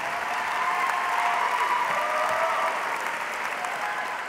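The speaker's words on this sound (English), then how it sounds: "Just one more round of applause." An audience gives a sustained round of applause at a graduation ceremony, dense even clapping from a large crowd that holds steady for several seconds.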